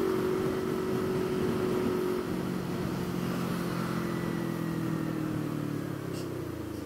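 A Yamaha MT motorcycle accelerates on an Indonesian road, a steady, close engine drone with a rising tone that holds loud and even throughout, with wind noise over it.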